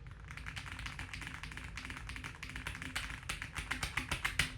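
A computer keyboard clacks with quick, irregular keystrokes, faint but distinct and close, speeding into a sharper burst of taps near the end.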